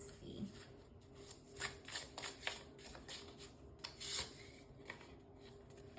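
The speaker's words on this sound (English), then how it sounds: "let's get into this last oracle deck here. We're just going to pull one card." Oracle cards shuffled and handled to pull a single card, giving soft papery riffles and rubs in uneven bursts, close and fairly quiet, with light talk nearby.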